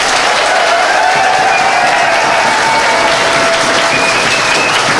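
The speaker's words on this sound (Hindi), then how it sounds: "ताली बजाइए सर के लिए।" A crowd gives loud, sustained applause for a teacher being honoured by Delhi's Chief Minister, a dense, even wash of many hands clapping for several seconds with no speech.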